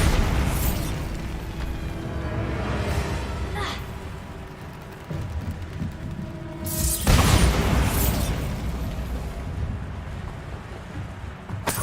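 Bombarda blasting spell in Hogwarts Legacy, a loud booming explosion with a rumbling tail, then a second sharp burst midway through, set against ambient game noise.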